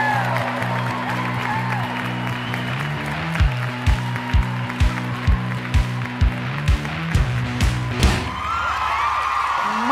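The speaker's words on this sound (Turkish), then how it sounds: "Alkışlarla!" Studio audience applauding on a Turkish TV cooking competition show, a steady wash of clapping under music with rhythmic bass thumps, ending abruptly.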